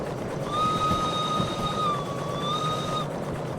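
Steam locomotive whistle in the Derail Valley train game: one sustained, steady tooting tone lasting about two and a half seconds, clear and fairly loud over a low rumbling engine and rail background.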